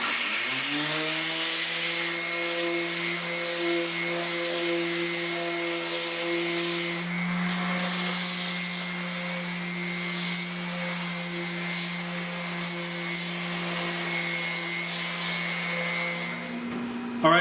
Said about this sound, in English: My preference is I start with my random orbit sander. I start with an 80 grit